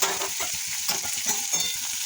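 Potatoes, beans, carrot, onion and chilli fry in oil as they are stirred, giving a steady close sizzle broken by a quick rhythmic run of scraping strokes, with no voices.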